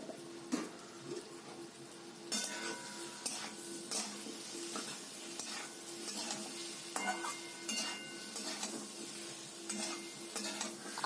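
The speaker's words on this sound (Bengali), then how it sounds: "এভাবে অনবরত নেড়ে যাব" Potatoes and pumpkin with turmeric and cumin frying in a pan, stirred without pause: a soft sizzle under repeated metallic scrapes and clinks of a spatula against the pan, coming in uneven bursts.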